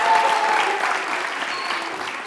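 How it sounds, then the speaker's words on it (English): Audience at a community science day event applauding volunteers, a steady, full round of clapping that holds evenly and fades slightly toward the end, with no talk over it. "big round of applause for our volunteers."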